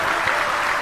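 A crowd at a Bhagavat katha gathering breaks into loud, dense applause, a brief burst of clapping close and filling the space.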